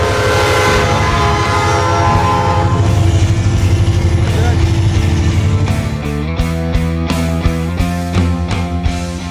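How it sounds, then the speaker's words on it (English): A train passes close by, its heavy rumble and drawn-out horn swelling loudly, then giving way to rhythmic clacking of the railcars over the track. "we have a train coming right next to us right now"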